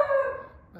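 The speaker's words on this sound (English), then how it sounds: "there must be somebody walking by or bringing a package or something because he's a barking at him" A single short bark from a dog sitting in a front window at someone passing outside, loud and close, trailing off within a second.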